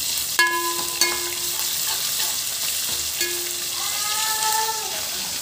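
Ginger garlic paste fries in oil in a pan for jeera rice, giving a steady broadband sizzle with a few sharp clinks and tonal squeaks from a utensil scraping the pan. No one speaks.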